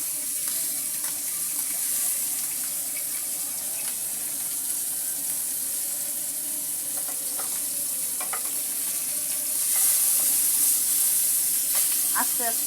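Pieces of hilsa fish fry in soybean oil, giving a steady crackling hiss close by, with a few utensil scrapes and clicks and a brief louder stretch near the end.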